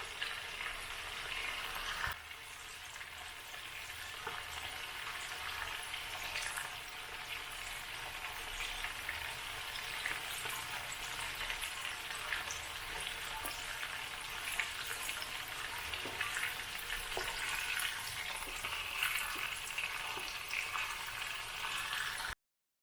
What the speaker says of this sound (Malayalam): പുരട്ടി വെച്ച ചിക്കൻ്റെ നേർ പകുതിയാണ് നമ്മളൊന്ന് ഫ്രൈ ചെയ്യാനായിട്ട് എണ്ണയിലേക്ക് ചേർത്തത്.